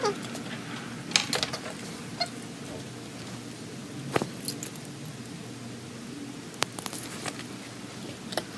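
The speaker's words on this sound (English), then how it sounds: "Then I grab my keys," A ring of keys is grabbed indoors, giving scattered short metallic jingles and clinks against quiet room tone, with no talking.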